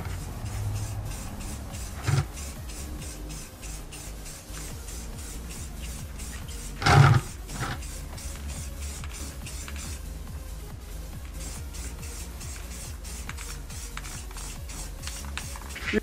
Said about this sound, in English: you are gonna spray on the clear coat